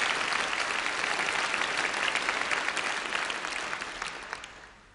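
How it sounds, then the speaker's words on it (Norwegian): Warm audience applause for a Norwegian jazz quartet at the 1982 Spellemannprisen awards, a full burst of crowd clapping that gradually tapers off, with a few isolated claps at the end. "Ja, en stor applaus for dem."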